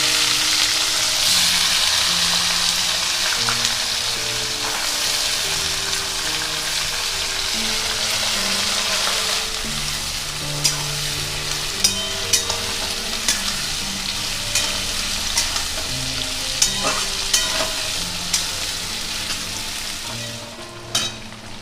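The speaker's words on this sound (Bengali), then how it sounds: "পেঁয়াজটা অর্ধেক ভাজা ভাজা হয়েছে" Continuous sizzle of onions frying in hot oil with dry chilies, cardamom and cinnamon, a spatula scraping and tapping the pan repeatedly in the later half, over soft background music.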